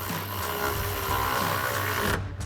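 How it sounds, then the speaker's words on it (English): Running board top mounting bolt on a Jeep Wrangler JK tightened with a 13mm socket on a power tool, a steady loud whirring drive for about two seconds that cuts off sharply. "now we can tighten down our top mounting bolt with a 13mm socket"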